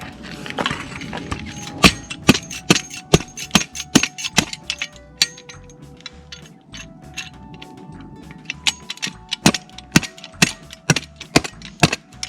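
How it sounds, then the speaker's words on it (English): A campfire at a solo campsite pops and snaps with sharp, irregular cracks, some loud and close, over a low, steady background hiss. "my fire just started"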